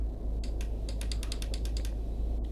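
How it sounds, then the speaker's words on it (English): Clicking of paddle shifters on a steering wheel controller during a truck driving simulation, a quick run of about a dozen sharp plastic clicks spaced at a steady rhythm over a constant low background hum. "it's me clicking the paddle shifts"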